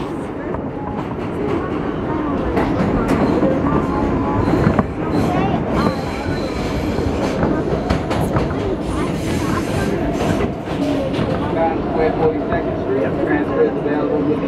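A Brooklyn-bound New York subway R local train rides the rails with a loud, steady rumble and rattling clatter from start to finish, with faint voices mixed in.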